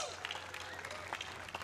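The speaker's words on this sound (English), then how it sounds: "how about a round of applause, Belmar?" Crowd applause at a beach volleyball match at the Belmar Open, a brief, faint wash of scattered clapping heard from a distance, with a few sharper claps near the end.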